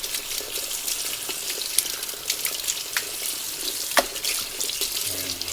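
Tap water running while an antique 1920s Akron 103 lantern part is rinsed, a steady close hiss with occasional splashes and clinks.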